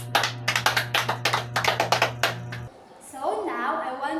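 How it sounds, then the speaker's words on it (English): Students in a classroom science demonstration give a quick round of applause, a burst of sharp, rhythmic claps lasting a couple of seconds under a steady hum, followed by a teacher talking. "Kindly give yourself a round of applause, please."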